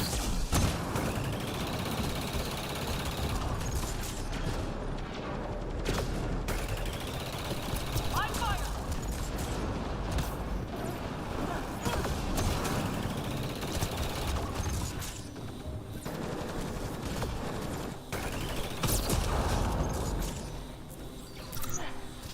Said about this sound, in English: there's a bunch of explosions happening around me